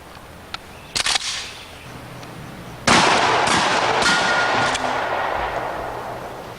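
A Remington 870 shotgun fires several sharp reports outdoors, a few quick cracks followed by a louder blast that rolls into a long fading echo with further shots.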